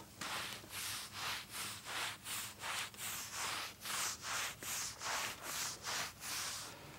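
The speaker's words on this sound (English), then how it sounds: "turn that brush around and rub it with the back of the brush" The back of a brush rubs repeatedly against a brick wall during washing with cleaning solution, giving about fourteen even, rhythmic scrubbing strokes that sound close and fairly quiet, with no talk.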